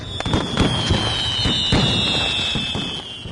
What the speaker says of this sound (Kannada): ಪಕ್ಕದ ಮನೆ ಪಟಾಕಿ ಹೊಡಿತಾ ಇದಾರಲ್ಲ